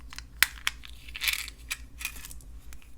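Faceted glass beads clink and tap against each other and a rod as they are threaded on, a few sharp close glassy ticks and jingles over a faint low hum.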